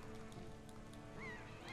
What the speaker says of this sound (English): Just a seagull coming through.